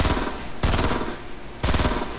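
Rapid automatic gunfire in the Fortnite video game comes as two loud, continuous bursts, each cutting in abruptly, with no speech.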